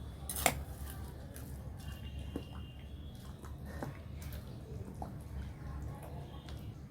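Onion dosa batter being stirred in a bowl, with soft clinks of a utensil against the bowl's side and a steady wet mixing texture that continues throughout.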